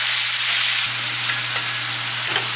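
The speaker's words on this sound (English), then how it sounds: "I usually come in here with the spatula, just kind of stir this up one good time" Ground hamburger frying in a pan is stirred once with a spatula, giving a loud, steady sizzle with a few soft scraping clicks and a low hum underneath, no voices.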